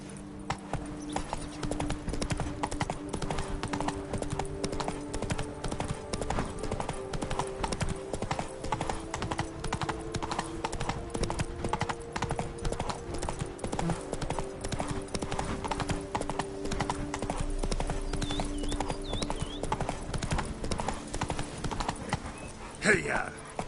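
Roach, the horse in The Witcher 3, gallops with fast rhythmic clip-clop hoofbeats that stay close and steady throughout, over faint background music and a brief sharp sound near the end.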